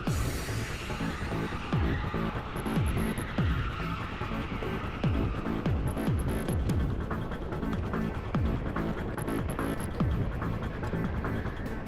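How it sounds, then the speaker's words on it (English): Go-kart on cold tyres running through a bend with too much power and sliding out, engine droning and rising and falling in pitch continuously at close range with other karts around, indoor track in Warrington. "forgetting that the tyres are cold, sends it into this bend with a bit too much power and skids out a bit"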